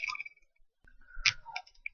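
A computer mouse clicks on a web form's submit button, giving a few sharp, quiet clicks among faint tonal interface sounds, with no talking.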